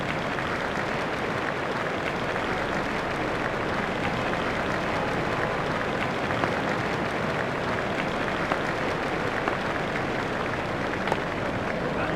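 A cricket crowd at a one-day international between England and Scotland applauds a batsman's century, a loud, sustained roar of clapping and cheering that fills the ground without a break.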